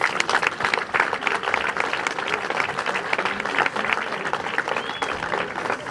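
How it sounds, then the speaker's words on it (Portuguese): An audience at a political party rally applauds loudly and steadily, dense clapping filling the hall for several seconds without pause. "Uma grande salva de palmas para este homem, por favor."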